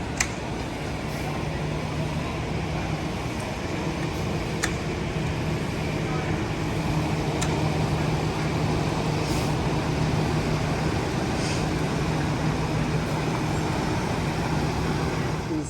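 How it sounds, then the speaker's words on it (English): A motorhome with a Cummins diesel engine is driven and turned around, giving a steady, close low rumble of engine and road noise that holds evenly throughout with faint scattered clicks and no talking. "Actually pulling our motorhome around, so we're pointing towards the exit"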